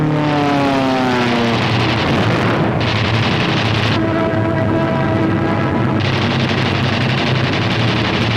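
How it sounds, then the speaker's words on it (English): P-47 fighter planes in air combat over Europe in 1943, a loud, continuous roar of propeller aircraft engines with shifting pitch and a rumbling, dense noise bed throughout. "German fighters attempting to intercept the heavy bomber attack are shot down by P-47s."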